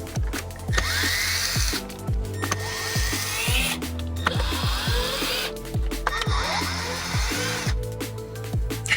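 Power driver fitted with a T15 Torx bit whirring in repeated bursts as it backs screws out of a 2019–2023 Silverado/Sierra dash panel, with short pauses and clicks between each run.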